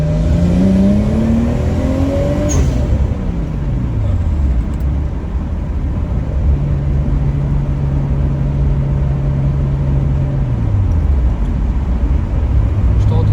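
Nissan Skyline R34 accelerating hard in second gear from about 40 to 80 km/h, engine note rising steadily, then a shift and a further climb, loud and continuous from inside the car.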